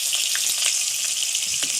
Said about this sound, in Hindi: इस तरह से आप प्याज डाल दें इसमें और इसको थोड़ा सा फ्राई कर लें